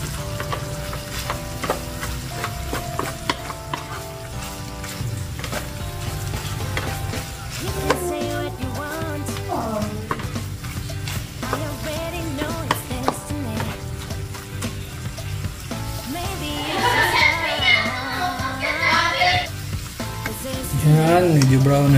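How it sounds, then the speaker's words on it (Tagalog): Pork pieces for crispy dinuguan fry in a pan, giving a steady close sizzle with occasional stirring that grows louder toward the end. "tiyagain kasi matagal to pa-crispihin"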